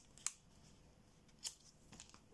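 Scissors snip a bit of craft material during card-making, two small sharp cuts spaced about a second apart with a faint third rustle, soft and close against quiet background hiss.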